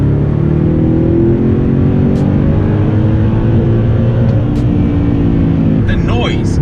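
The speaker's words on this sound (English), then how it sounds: "when you put your foot down, the engine response is really good" An Audi R8 with a naturally aspirated V8 and Milltek exhaust accelerates, a steady, loud engine drone heard from inside the cabin with rising tones, and someone talks over it.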